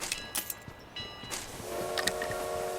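A train rolling past in the mobile battle royale game BGMI, a steady rumbling rail sound that builds and holds, with a faint tonal whistle-like hum toward the end, fairly distant and steady.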